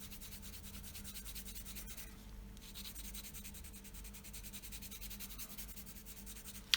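A colored pencil rubs steadily back and forth across paper while blending color with odorless mineral spirits, a soft, continuous scratchy sound close by that ends in a small tap.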